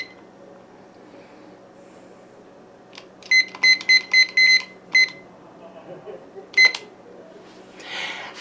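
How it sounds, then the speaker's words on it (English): A kitchen timer is set for a 40-minute oven bake: a quick run of sharp electronic button beeps, then a single later beep, over a quiet room hum. "And I'm going to set my timer for 40 minutes."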